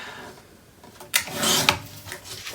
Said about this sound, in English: Actually, I need to trim some more.